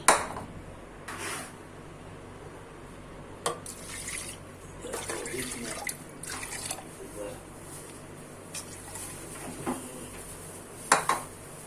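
Water poured into a cooking pot of rice for boiled rice, with intermittent splashing, clinking of metal pots and utensils, and faint dripping from a tap, fairly close and moderately quiet.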